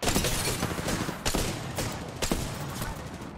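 Gunfire in the video game Apex Legends, including the Longbow rifle: a dense, continuous fusillade of shots with several sharper cracks standing out over about three seconds, steady and loud without speech.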